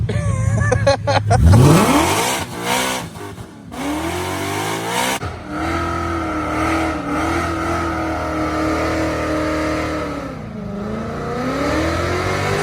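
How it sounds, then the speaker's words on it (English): A Ford Fox body with a swapped Coyote engine does a reverse burnout: loud, sustained engine revving with rising and falling pitch and tire squeal, heard close and continuous. "He still does a burnout in reverse."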